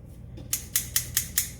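Meat-cutting scissors snip through raw steak in a kitchen, five crisp, evenly spaced cuts in quick succession, close and fairly loud over a low background hum.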